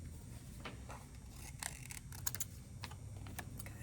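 Scissors snipping around printed stamps for a custom pillow craft project, faint, sparse clicks and small cuts close up in a quiet room.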